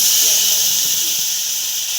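Onion paste hits hot oil with cumin seeds and gives off a loud, continuous hiss and sizzle that fades slightly over two seconds.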